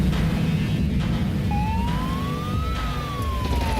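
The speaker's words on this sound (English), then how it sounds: "Is that AV siren again?" Futuristic aerial vehicle siren from a Cyberpunk RED sound effects set wails in a rising then falling sweep over a loud, constant low rumble of city and engine noise.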